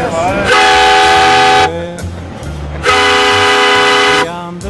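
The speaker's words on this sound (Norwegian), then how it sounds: "Vi tuter litt." Two long, loud blasts of a deep ship horn from the steamship M/S Henrik Ibsen, separated by a short pause, very close and dominating the scene.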